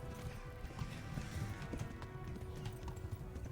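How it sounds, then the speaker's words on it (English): Horse hooves galloping in the medieval video game Kingdom Come: Deliverance, a steady low drumming of hoofbeats under a faint game ambience, continuous and moderately quiet. "we need to gallop a bit."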